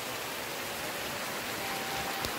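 Steady rain falls across open farm fields and soaks a yard, a dense, even hiss that holds unbroken for a couple of seconds with no voices.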